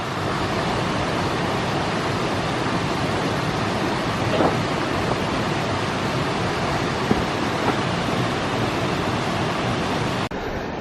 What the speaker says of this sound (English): the magical sounds of water in Willoughby Creek as it rushes on its short journey back to sea